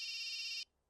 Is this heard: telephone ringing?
yes